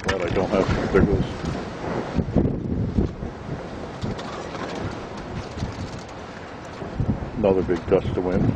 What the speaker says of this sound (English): Another big gust of wind.